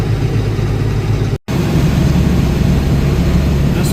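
A tractor engine runs during an Iowa bean harvest, a loud, steady low idle-like drone close by, broken by a brief dropout before continuing unchanged.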